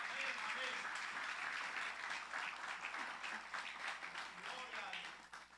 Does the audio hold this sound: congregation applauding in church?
yes